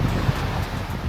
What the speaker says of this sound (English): It's super windy, boy.